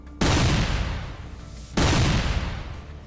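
Two heavy, booming explosions from an armored BMP vehicle striking a mine in a combat zone, each a sharp blast followed by a long decaying rumble, about one and a half seconds apart.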